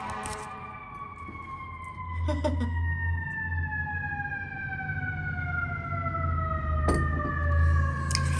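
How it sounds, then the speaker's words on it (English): Several sirens wail at once, their tones sliding slowly downward over a low rumble of traffic, fairly close and steady throughout. "You hear the sirens?"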